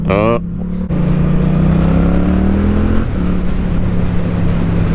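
A Yamaha MT-07 motorcycle's CP2 parallel-twin engine runs loud and close, holding a steady throbbing note that rises slightly before settling, under a rider's voice and wind noise.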